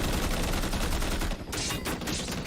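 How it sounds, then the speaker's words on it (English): Dense battle noise from the war movie We Were Soldiers: rapid, overlapping machine-gun and rifle fire with artillery booms, loud and continuous, with a brief dip partway through before the shooting resumes. "These explosions are no joke."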